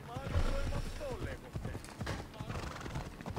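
Hooves clip-clop in a video game alongside neighing from a horse, with talk running over the steady hoofbeats.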